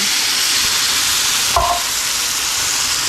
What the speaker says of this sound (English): I'm going to add my roux mixture into that skillet and let that cook some right there